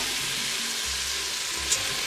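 Rinsed, still-wet beans hiss and sizzle steadily in hot bacon fat inside an Instant Pot, a loud, continuous frying crackle with no voices.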